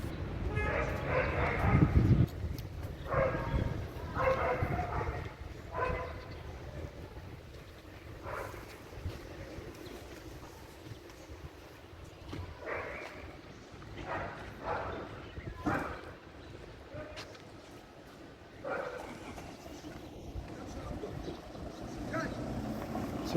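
A dog barks in repeated short bursts on a side street in Hurghada, Egypt, set against outdoor street noise and wind with occasional voices.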